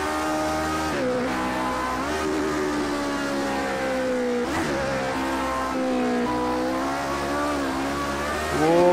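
Lotus 49 race car with a Cosworth engine at Spa, climbing Eau Rouge and spinning its rear tyres. The engine screams loud and close, with harmonic pitch sweeps as it revs, and the roar swells near the end.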